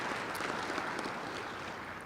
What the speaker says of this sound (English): So just a brief round of applause for those people.